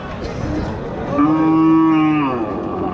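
A cow at a rain-soaked Friday cattle market in Chaubaria moos once, loud and close. The long, low, droning call rises and then falls away over a murmuring background.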